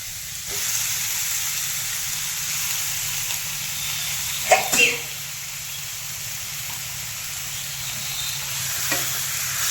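Chicken pieces sizzle in a hot pan for kandhari chicken curry, a continuous frying hiss with a brief burst of utensil scraping and clatter midway, close by and without talk.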